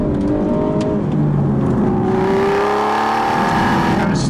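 An Aston Martin V12 Vantage S drives a canyon road in the San Diego County desert, its V12 engine droning loudly and climbing in pitch as it accelerates.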